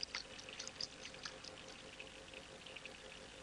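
Well-aerated water poured into a laboratory reaction vessel fitted with a magnetic stirrer, a faint, steady splashing trickle lasting a few seconds with a brief louder spurt at the start.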